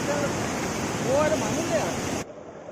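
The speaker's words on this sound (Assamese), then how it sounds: "ইয়াত জলপ্ৰপাত বনি আছে এই মুহূৰ্তত" The flood-swollen Dikhow River pours over a drop like a waterfall, a loud, steady roar of rushing water close by that cuts off abruptly near the end.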